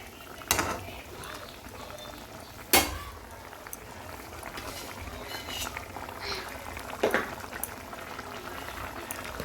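Fried parshe fish simmering in a mustard and poppy-seed curry gives a steady low bubbling, broken by a few louder clinks and knocks of utensils.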